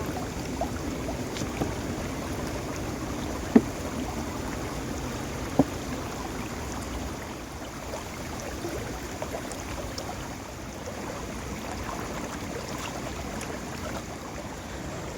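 Stream water flowing through a channel to a traditional gharat water mill in a Himalayan village, a steady, even rush and gurgle for the whole stretch, moderately close, with a couple of faint clicks and no voices.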